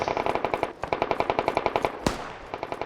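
Rapid automatic gunfire from the Squad video game, a dense, steady string of close shots with a brief pause and a sharper single blast near the end.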